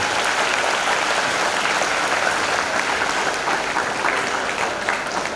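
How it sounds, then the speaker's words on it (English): An audience in a school's new auditorium at its inauguration gives sustained, dense applause, loud and even without a break. "Let's give a big round of applause for SFS family."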